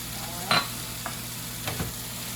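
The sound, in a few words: stirring diced pimentos and cream cheese in a pan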